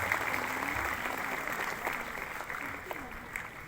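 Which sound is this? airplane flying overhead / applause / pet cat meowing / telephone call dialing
applause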